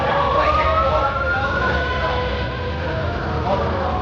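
An emergency vehicle siren wails continuously on the Las Vegas Strip, a steady rising and falling tone over loud street and traffic noise, heard at moderate distance throughout.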